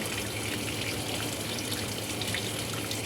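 Tap or filtered water sprayed through a dirty, clogged coffee machine brewer unit to flush out a blockage, a steady, close, continuous hissing spray that holds an even level throughout.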